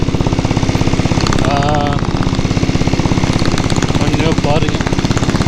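A diesel Royal Enfield Bullet motorcycle engine runs steadily on a ride toward Dhanushkodi, its dense rapid thumping pulse loud and continuous throughout, with someone speaking briefly over it.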